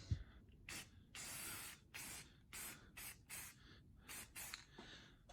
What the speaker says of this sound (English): this is what I'm using, just some Rust-Oleum 2K or 2X, and same thing. Just gonna give one light coat